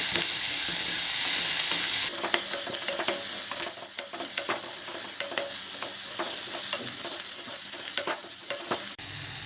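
Onion fries in butter in a pan for broccoli soup, a steady near sizzle with repeated scraping stirs and clinks, alone, with no talk.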